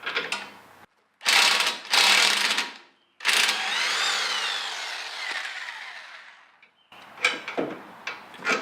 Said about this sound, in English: then you can just take the nut off with your impact